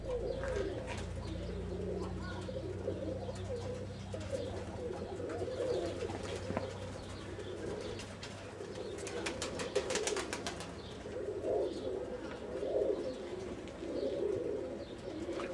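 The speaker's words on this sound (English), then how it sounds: "Without question, Rayvon has some serious pigeons." Pigeons coo steadily in a loft, their low, rolling calls overlapping continuously, with occasional chirps and a brief flutter of wings among them.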